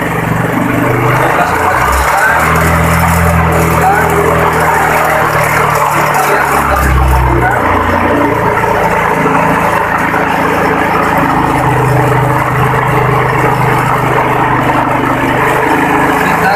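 A motorcycle engine is revved while its battery charging is checked. There is a continuous low mechanical drone whose pitch shifts and swells as the throttle is worked, steady and close, with no speech.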